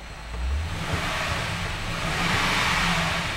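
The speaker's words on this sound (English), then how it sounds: "I'm going to rev the engine." A 2008 Toyota Tundra CrewMax with a 5.7-liter V8 revs up from idle, engine noise swelling early and holding a steady, fairly loud rumble with a second rise near the end.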